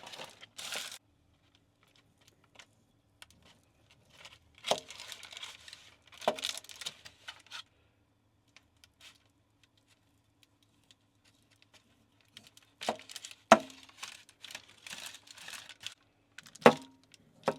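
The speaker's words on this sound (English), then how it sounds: "you're going to want to trim off the skin" A knife trims the skin off guanciale resting on paper, making scattered short bursts of crisp scraping and crinkling separated by quiet gaps, close and fairly faint.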